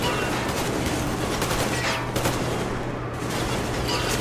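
Explosion in Metro Exodus, a first-person shooter, as a red gas cylinder blows up during a fight with cannibals; a dense, continuous roar of blasts and gunfire-like crackle stays loud throughout.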